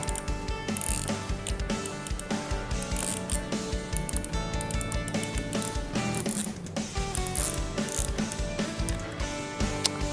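Spool of a 2020 Daiwa RX LT spinning reel being handled and removed, a continuous rapid mechanical ratchet clicking and whirring, close and steady throughout.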